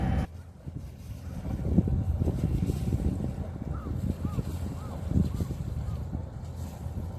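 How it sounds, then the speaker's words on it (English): An outboard motor drones steadily on a sailboat sailing under both sails in light wind near Iki, Japan, a constant low rumble mixed with water wash and wind noise, with faint brief chirps above. "As you can probably hear, I've got the motor running."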